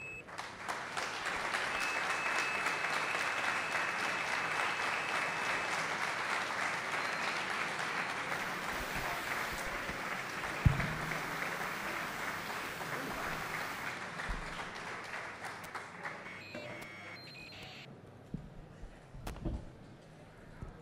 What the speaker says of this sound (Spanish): lo único que sí que os pediría es que le recibáis con el aplauso que se merece